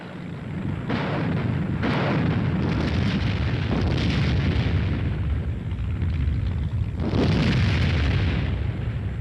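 Anti-aircraft artillery guns fire in repeated heavy blasts, a loud, continuous rumbling barrage with several distinct booms rising out of the roar, heard without any talk.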